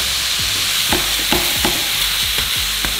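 Burger patties sizzle loudly on a griddle in a constant hiss, with several scraping clicks from a spatula spaced through it.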